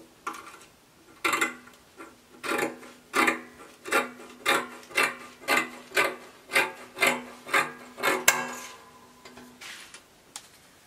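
Scissors cutting dress fabric, a steady series of about a dozen rhythmic rasping snips close by, one after another at an even pace, with no voices.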